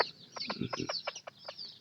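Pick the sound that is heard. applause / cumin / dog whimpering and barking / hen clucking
hen clucking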